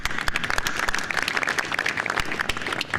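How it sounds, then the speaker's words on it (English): Dense audience clapping at the closing ceremony of the BSA Women's Open 2025 final day, a close, lively patter of many hands with a few sharper individual claps standing out. "we ended on this last clap now"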